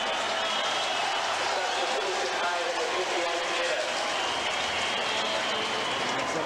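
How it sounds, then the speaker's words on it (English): Crowd applause at a 1994-95 NSL preliminary final football match between Melbourne Knights and South Melbourne during a substitution, heard as a sustained, distant clapping and crowd noise under a commentator's talk. "Massive round of applause both for Pondoyak and Kovacevic."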